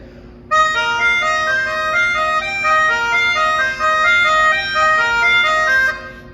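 A tinkling music box repeats the same short nine-note figure over and over in a steady loop, clear and close, ending with a fading ring.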